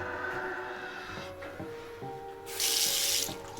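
A bathroom sink tap in a cheap guesthouse in Hanoi's Old Quarter runs water in a steady close wash, which surges noticeably louder and brighter toward the end as the flow opens up.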